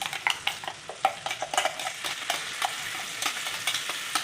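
Onion fries with a spice paste of dried chilli, ginger, garlic and cumin in hot oil, sizzling steadily while a utensil scrapes and stirs the pan in quick repeated strokes, close and clear with no talk.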